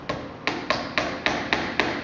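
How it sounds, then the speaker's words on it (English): A small pin hammer taps hinge pins into a wooden box, seven light, evenly spaced knocks with sharp attacks, close and alone. "we'll use a small pin hammer. This is a small hammer."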